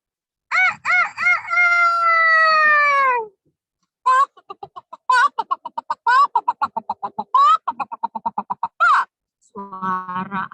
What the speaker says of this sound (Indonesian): Si jago telah berkokok.